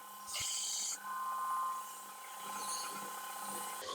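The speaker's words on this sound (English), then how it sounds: "I'm going to use the belt sander here to clean these up" Belt sander smoothing small wood pieces, a steady high-pitched whine with a rougher, louder grinding burst at the start as the wood meets the belt, continuing close and fairly loud.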